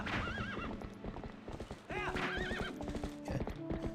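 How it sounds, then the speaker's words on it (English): Horse in a Zelda randomizer game galloping with rapid rhythmic clip-clop hoofbeats, punctuated by two whinnies, with game music tones and a faint voice in the background. "I'm overworking this horse a little bit."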